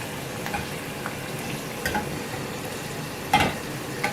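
Soft, steady sizzle of potatoes and curry leaves frying in oil, with a few light clinks and scrapes of stirring scattered throughout.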